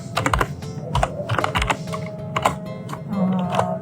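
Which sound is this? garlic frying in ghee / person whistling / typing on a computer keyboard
typing on a computer keyboard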